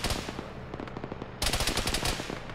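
Rapid machine-gun fire rattles in a military video game (Arma), bursts of sharp shots in quick rhythm that grow louder and denser halfway through, with no voices.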